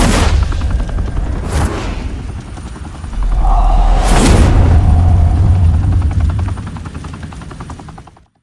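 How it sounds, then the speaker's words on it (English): Loud gunfire bursts in the video game Batman: The Telltale Series, sharp cracks over a heavy rotor-like drone and rumbling explosions, dense and close, fading out at the end. "Open fire!"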